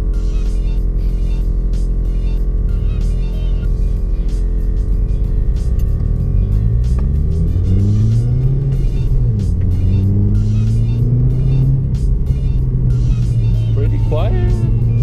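Inside a Subaru WRX fitted with a Tomei catback exhaust, windows up, a deep muffled engine drone fills the cabin and rises in pitch as the car accelerates, then settles.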